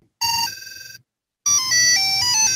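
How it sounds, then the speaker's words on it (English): Electronic ringtone chirps from a small battery-powered Annoyatron prank device, two bursts of bright, tonal cell-phone-style melodies separated by a short silence, loud and close with no talking. "My brother-in-law introduced me to the ringtone Annoyatron."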